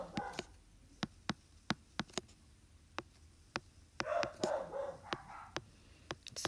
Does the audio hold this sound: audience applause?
no